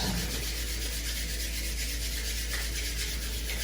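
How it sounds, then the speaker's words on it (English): Palms of both hands rubbed together vigorously, a continuous close, dry friction swish lasting several seconds, ending with a brief louder touch. "rubbing the hands together, rubbing the palms together vigorously"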